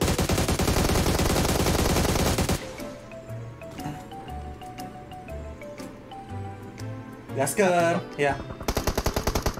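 PUBG Mobile gunfire, with a loud, sustained automatic burst at the start, then quieter game ambience with players chatting, and a final rattle of rapid shots at the end.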